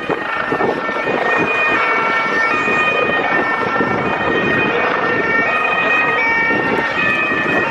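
A loud police car siren wails continuously near a German soccer derby crowd, its steady tones cycling over street noise and wind rumble, with no clear talk.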